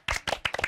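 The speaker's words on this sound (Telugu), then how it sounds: "come on, claps" Students in a college interaction session clap briefly, a short burst of several sharp, close hand claps in uneven rhythm.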